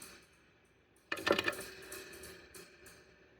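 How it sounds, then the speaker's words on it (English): Spring reverb tank inside a Taurus 2008 bass head preamp box rattling as the unit is shaken, a sudden burst of metallic clatter and boingy ringing after quiet hiss, with fainter jangles trailing off. "what you're hearing is the spring reverb tank inside"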